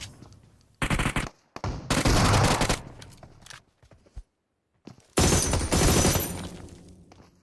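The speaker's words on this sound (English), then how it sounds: "RIQ trying to take down the players with the AUG this time" Bursts of automatic AUG rifle fire in the PUBG Mobile battle royale game, loud rapid volleys in three separate stretches with short silent gaps between them, no talking.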